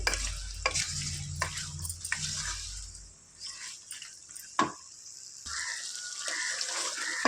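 Meat frying in a pan, a soft intermittent sizzle with spoon scrapes and a sharp clink, quieter in the middle stretch.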